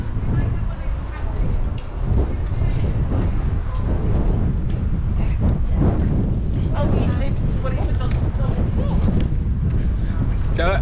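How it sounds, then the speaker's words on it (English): Heavy wind in Bristol buffets the microphone with a steady low roar and gusty rumble, loud and continuous throughout, with a voice faintly present beneath it. "It's very, very windy today."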